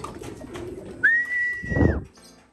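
A blue bar pigeon gives a single short call, a bright sustained tone that rises and falls, over faint background noise and a low rumble near the end.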